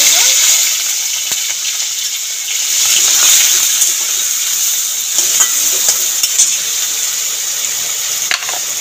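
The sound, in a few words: washed shrimp frying in hot oil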